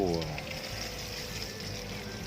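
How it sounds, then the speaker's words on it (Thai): Water poured from a watering can rose onto a freshly repotted potted plant, a soft continuous splashing hiss heard close and steady at low level. "ตอนนี้เราก็จะมารดน้ำโดยใช้ฝักบัวนะครับ"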